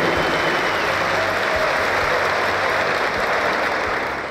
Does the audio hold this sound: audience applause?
yes